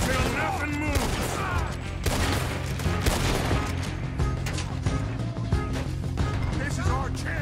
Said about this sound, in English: Just keep shooting till nothing moves.